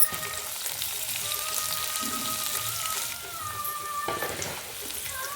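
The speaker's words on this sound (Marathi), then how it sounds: "कांदा पण चांगला परतून घ्यायचा आहे व्यवस्थित कांदा सुकू द्यायचा आहे" Onion sautéing in a pan for a safflower-leaf vegetable dish, a steady close frying sizzle with light crackle and a thin whistling tone over it, briefly dipping partway through.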